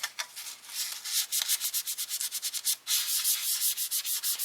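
Dry sanding scrapes across a 1:25 scale AMT 1966 Oldsmobile 442 plastic model car body, in quick rhythmic back-and-forth rasping strokes, close and alone with no voices.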